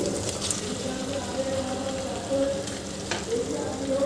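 Boiled double beans hit hot oil in a pan, producing a steady, close sizzle and frying hiss with faint stirring scrapes throughout.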